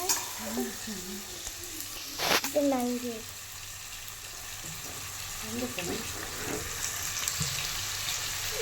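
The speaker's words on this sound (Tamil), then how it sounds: "வெங்காயம் போட்டுட்டு வதக்கலாம்." Onions sautéing in a pan sizzle steadily beneath voices talking, with stirring clinks and a louder clatter near the middle.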